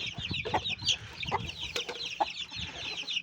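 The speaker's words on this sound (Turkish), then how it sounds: "Arap tavuğumuzu da tabii ki unutmuyoruz. Orada artık kendini parçaladı. Ben de buradayım diyor." An Arab hen clucks repeatedly in a farmyard coop, short insistent calls over a bed of other chickens chirping and clucking nearby.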